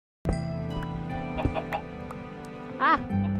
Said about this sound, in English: Ah! Chicken.